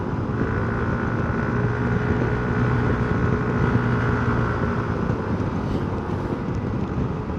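A motorcycle engine carrying a passenger strains uphill on Cabrera Road with a steady, droning, laboring hum under wind rush that runs without a break.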